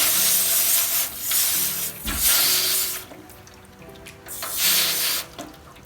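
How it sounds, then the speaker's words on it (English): Water running from a tap over a cleaned blue crab as it is rinsed, the stream rising and falling in bursts with handling and rubbing noises in between, close by. "So I'm going to just do a little quick rinse to clean it off a little further."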